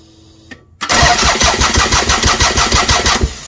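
A Toyota MR2 with a turbo V6 cranks over on the starter after a brief click, churning in a fast, even rhythm of loud pulses for about two and a half seconds without firing, then stopping.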